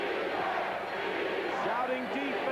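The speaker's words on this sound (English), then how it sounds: "This crowd at a fevered pitch at the Spectrum in Philadelphia." A packed basketball crowd at the Spectrum in Philadelphia roars steadily at a fevered pitch during a 1981 76ers–Celtics playoff game, a dense continuous wash of shouting voices throughout.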